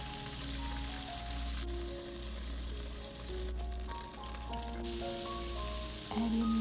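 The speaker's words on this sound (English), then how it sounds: "Fry in batches and remove." Beef cubes seasoned with salt, pepper and a little cornstarch frying in batches in hot oil, giving a steady, close sizzle that runs the whole time, with faint tonal clinks and hums layered over it.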